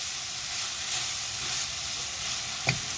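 Spices stirred and sautéed in a hot pan during home cooking, a steady close sizzle with soft scraping and one brief clink near the end.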